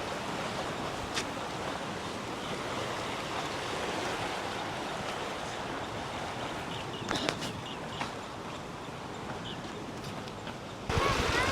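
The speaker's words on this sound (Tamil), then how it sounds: "அந்த தண்ணி விழுற சத்தமே சூப்பராக இருக்குது." Water from a waterfall near Tirunelveli, India, pours in a continuous, broad rushing roar, with a few faint clicks and knocks on top.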